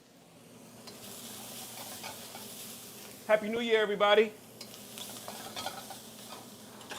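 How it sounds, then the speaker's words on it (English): Stir fry sizzling and crackling in a pan, a soft steady hiss running throughout while someone speaks briefly over it. "My stir fry is stir frying."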